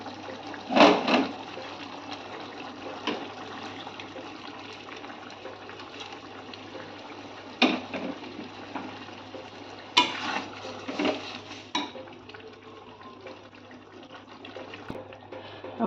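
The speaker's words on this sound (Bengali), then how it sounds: "আমি সামান্য একটু গরম জল দেবো" Hot water poured into a simmering egg tarka curry, a soft gushing splash with a few louder pours and clinks over a low steady hum, fairly quiet and without talk.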